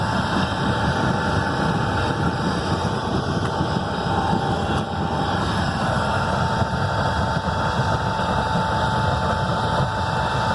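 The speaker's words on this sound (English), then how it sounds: "now I'm gonna start the blower motor. So there goes the unit. Actually running." Blower motor of a homemade oil burner built from an old Freon tank, running with a steady close mechanical whir and hum that holds constant throughout.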